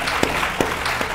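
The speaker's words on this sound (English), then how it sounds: "Let's give our panelists a round of applause." Audience applause for panelists at a STEM career showcase for students with disabilities, a moderate, even clapping of a small crowd with a few sharper individual claps standing out.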